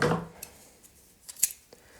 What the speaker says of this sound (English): cut it with these scissors.